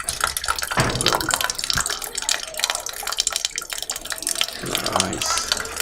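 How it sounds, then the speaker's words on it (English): Water streams steadily through shower heads at an arsenic removal plant for drinking water, a continuous close hissing rush with uneven splashing bursts throughout. "the water is coming through these showers, right?"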